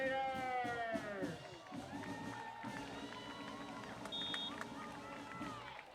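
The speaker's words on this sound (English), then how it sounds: "This Wellesley crowd getting very noisy" The Wellesley crowd at a high school football game keeps up a steady roar of cheering and shouting, with whistle-like tones and voices rising over the constant hubbub.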